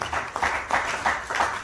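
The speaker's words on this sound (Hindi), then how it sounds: "एक बार जोरदार तालियां इनके लिए" Audience applause at a Hindi poetry gathering (kavi sammelan) in Delhi, a short burst of steady clapping from a small crowd, even and moderately loud.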